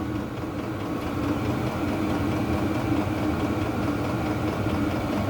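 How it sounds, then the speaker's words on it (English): A Vevor 12V diesel heater running at full operation, giving a steady, continuous low droning hum and whir with no change in level throughout, heard up close and alone. "This thing seems to be up and fully running."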